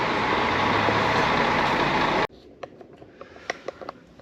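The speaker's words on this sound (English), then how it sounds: "Ah, red bus, just like in London." A red bus in Baku street traffic gives a loud, continuous engine and road rumble that cuts off abruptly halfway, leaving a quiet scene with scattered faint clicks and taps.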